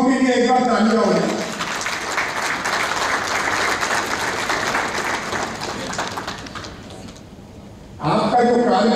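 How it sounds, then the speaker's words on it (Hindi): Audience applause at a food technology training workshop in Amravati, a broad wash of clapping that fades near the end before a voice speaks again over it. "सभी से विनती करूंगा उनके लिए एक बार तालियां बजाएं"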